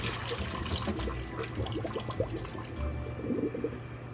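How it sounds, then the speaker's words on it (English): Water from pot-blanched broccoli, already cooled, drains away in a steady close splashing and gurgling pour that lasts the whole stretch, with small bubbly trickles and drips over a continuous low rush. "okay, then we drain the water"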